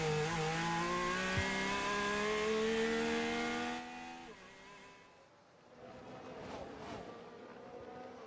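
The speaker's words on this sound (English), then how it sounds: "Soft tyres on the car, into the dip, on the curb, and the lock-up for Hulkenberg." Onboard a Formula 1 car on soft tyres through a dip and over a kerb, a loud, high engine whine that drops sharply at a tyre lock-up and then picks up again more faintly.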